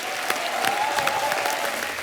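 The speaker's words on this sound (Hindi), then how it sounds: "जोरदार तालियां सलमान के लिए" A television comedy show's studio audience bursts into loud, steady applause to welcome a guest, dense and sustained clapping from a large crowd close by for about two seconds.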